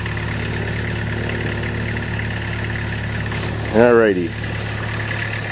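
A 3-liter Mitsubishi gasoline engine, unused for two weeks, idling with a steady low hum throughout, plus a brief rising whine from a turning starter or revving engine near the middle and a short spoken word.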